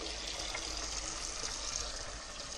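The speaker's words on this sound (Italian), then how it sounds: "Intanto l'acqua andiamo a riempire a dovere," Tap water runs steadily into a pan beside a kitchen sink, a continuous broadband gush held at an even level throughout, close and fairly loud, with no voices.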